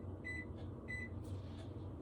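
A microwave oven hums steadily while melting a stick of butter for a broccoli casserole, a low continuous drone with faint higher tones and soft clicks, fairly quiet and close, with no talk.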